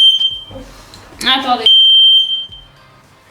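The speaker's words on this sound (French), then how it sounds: "j'ai fait cramer mon biscuit au four. Ça a carrément fait sonner l'alarme." Shrill, steady electronic beep of a smoke alarm set off by a sponge cake burnt in the oven, loud and close, ringing through most of the clip while someone speaks briefly over it.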